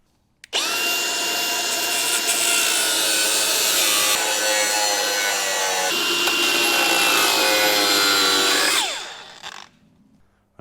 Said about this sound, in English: Right, where's the grinder?